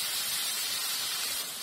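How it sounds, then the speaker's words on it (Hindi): Water hits hot sabudana khichdi in a cooking pan with a loud, steady, close steam hiss that stays even throughout and is heard alone, without talk. "थोड़ा सा पानी हम इसके अंदर ऐड कर देंगे"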